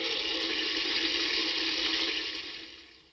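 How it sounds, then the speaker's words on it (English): Otohime toilet sound device by Toto playing a simulated toilet flush: a steady, close rushing-water hiss held evenly throughout, fading slightly at the end, with no voices. "So we developed Otohime, a device which generates the sound of a toilet flushing for 25 seconds"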